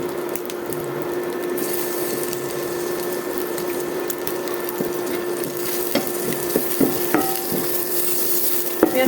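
Chicken and onion frying together in a pan for a winter-vegetable noodle dish, a steady close sizzle with scattered scraping clicks of stirring, no voices.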